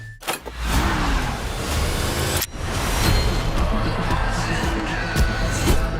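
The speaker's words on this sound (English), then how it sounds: "Start your engines." Car engines starting up and revving, loud and close, a sharp start followed by sustained roaring revs with a brief cut midway, and faint crowd noise beneath.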